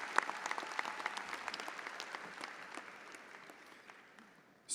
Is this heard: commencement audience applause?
yes